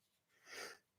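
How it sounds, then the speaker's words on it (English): A single faint, soft sneeze indoors, a brief breathy burst rising and fading within about a second against near silence. "I think I might sneeze here in a second,"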